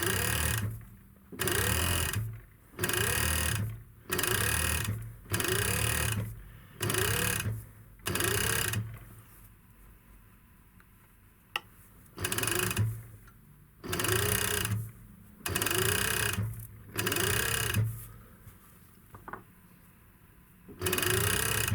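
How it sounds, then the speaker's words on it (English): A sewing machine stitches elastic onto a skirt waistband in repeated close bursts of rapid mechanical whirring, each lasting about a second with short pauses between, and a longer quiet gap partway through. "I put it under my foot and start sewing."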